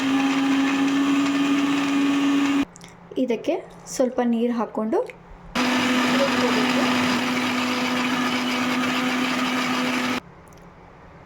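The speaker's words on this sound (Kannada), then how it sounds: "ಈಗ ಇದನ್ನು ನಾವು ಮಿಕ್ಸಿ ಮಾಡ್ಕೋಬೇಕು" A kitchen mixer grinder whirs loudly, blending ginger, coconut, tomato, chilli powder and coriander powder, then stops while someone speaks briefly, then whines steadily again before cutting off.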